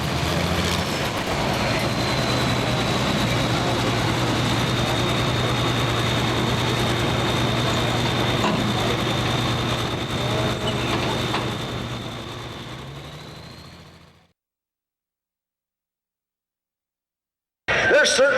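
A 9,300-pound super farm tractor pulls a sled at a summer nationals tractor pull, its engine roaring loud and steady with a high whine for about fourteen seconds, then fading out into silence before noise abruptly returns.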